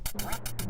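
Duck quacks from the old Nintendo duck hunting game come as a quick burst of three or four nasal honks within a fraction of a second. They sound loud and close, with no voices.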